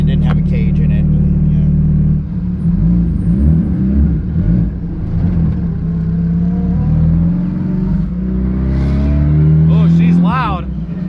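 A loud tuned 900HP K-swapped AWD Honda Civic EG coupe engine rumbles at idle and climbs in pitch as it revs near the end, with a person talking over it.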